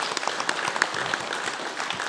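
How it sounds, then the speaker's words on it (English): Audience applause at a democracy summit gathering, a dense steady patter of many hands clapping together for about two seconds at moderate level, with no speech over it. "can we give them all a big round of applause"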